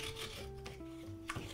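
Coconut flesh being scraped on a coconut scraper with blades, a close, soft rubbing rasp in short repeated strokes over a steady low hum.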